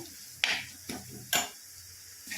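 Chili powder and ghati masala sautéed in a pan for a Maharashtrian sprouted moth bean curry, with three or four separate scraping stirs over a faint, steady sizzle, close up.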